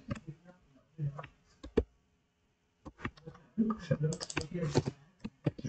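Clicky bursts of typing on a computer keyboard while coding, irregular keystrokes in short clusters with a brief pause in the middle, close and fairly quiet, with a voice talking softly over parts of it.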